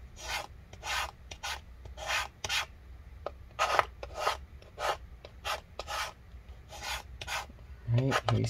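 Adhesive is scraped out of the battery area of a 15-inch Retina MacBook Pro A1398 from mid 2015 in a rapid series of short, close rasping strokes, and faint soft voice sounds come in near the end.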